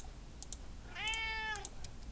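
A house cat gives one clear, drawn-out meow close by, with soft computer keyboard clicks tapping around it in a quiet room.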